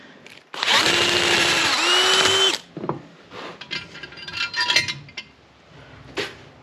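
A power drill bores into a part on a 1966 John Deere 110 round-fender garden tractor, one loud steady whine lasting about two seconds that rises slightly in pitch, followed by clinks and handling noises.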